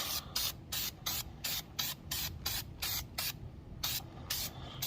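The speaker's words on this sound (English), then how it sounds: "we'll spray this on there and see how it reacts to it" An aerosol can of paint stripper sprays in about a dozen short, hissing bursts with brief pauses between them, close and fairly loud.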